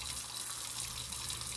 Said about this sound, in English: I'm just running it under my hot water tap.